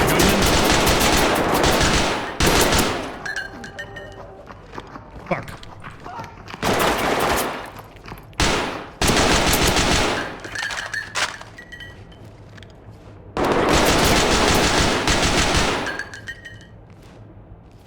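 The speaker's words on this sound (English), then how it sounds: "as soon as the gunshots started going off" Gunfire in the tactical shooter Ready or Not comes as several long, loud bursts of rapid automatic shots separated by quieter gaps, with a man swearing and brief voices between volleys.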